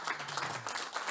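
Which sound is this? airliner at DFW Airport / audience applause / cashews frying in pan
audience applause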